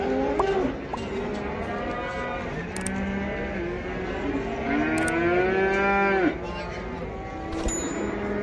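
Cattle moo repeatedly at an open livestock market in Taraz, several long drawn-out calls from different animals, some near and some farther off, over a steady background murmur of the crowded bazaar.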